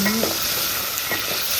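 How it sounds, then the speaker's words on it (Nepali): Sesame seeds and timur pepper fry in hot oil with a dense, continuous sizzle while a utensil stirs through the pan. "टिमुर भुटिसकेपछि हल्का चलाउने"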